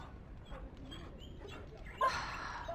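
A dog whimpers and whines softly at moderate distance in the fantasy role-playing video game Dragon Age: Origins, giving a few faint high whines over a low background hum, followed by a brief louder yelp near the end.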